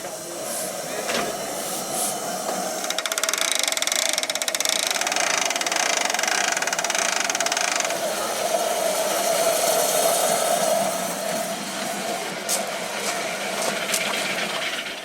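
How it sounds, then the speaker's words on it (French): Live steam miniature locomotive running on a small model railway track at Pontcharra, giving a steady mechanical chugging and hissing drone that holds for about fifteen seconds, fairly close, with a few faint clicks and no talking. "On a pour le moment 2 petites locomotives à vapeur qu'on fait tourner pour le public"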